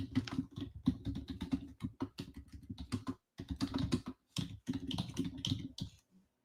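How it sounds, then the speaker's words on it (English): Someone types fast on a computer keyboard, producing dense rapid key clacks in bursts with a few brief pauses. The typing is close and clear, with no voices. "I'm going to type in our chat."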